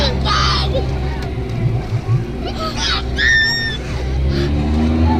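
Polaris Ranger Crew off-road vehicle stuck deep, its engine droning loud and steady with throttle swells, mud and water churning and splashing, and voices calling out over it.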